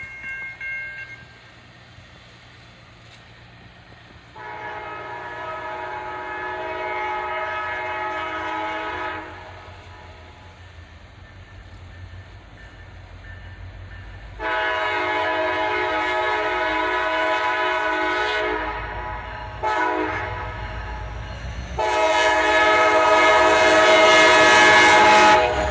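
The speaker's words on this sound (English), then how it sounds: "A pair of SD-43s lead this train on a cold morning." A CSX freight train led by a pair of SD-43 locomotives on a cold morning sounds several long, loud horn blasts in sequence over the low rumble of the passing train, with the last blast the strongest.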